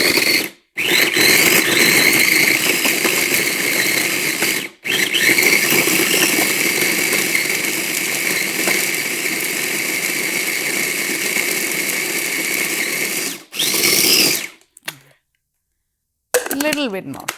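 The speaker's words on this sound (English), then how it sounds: "So I have a 4-cup food processor here." A small 4-cup food processor grinds butter and vanilla into a paste in loud, steady whirring bursts, stopping briefly near the start and again around the middle, then cutting out near the end with short pulses.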